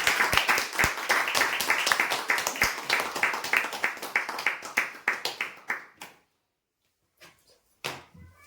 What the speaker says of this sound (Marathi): जोरदार टाळ्या होऊ यासाठी